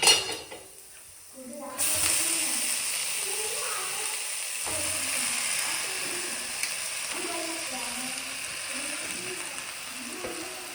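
Sprouted beans tip into a hot frying pan with oil, which breaks into a loud steady sizzle that carries on through the clip, with a voice talking over it.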